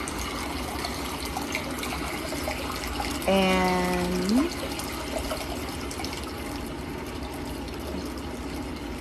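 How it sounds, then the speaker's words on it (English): Steady water sounds rush continuously in the background, a constant flowing wash, while a voice speaks briefly over it. "I'm gonna turn down these water sounds a little bit."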